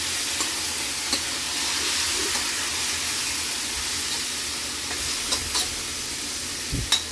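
Kaili fish being stirred as it cooks in a pan for Bisaya-style bas-oy, a steady close sizzle and hiss with occasional soft scrapes and clinks of the utensil, no talk over it.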